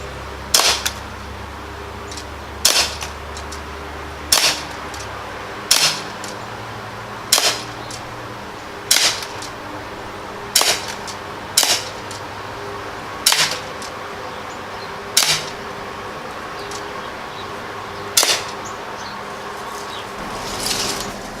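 Umarex Morph 3X BB pistol with long barrel fired outdoors in roughly 30-degree weather, a sharp crack about every one to three seconds, around a dozen shots in all, with no talk.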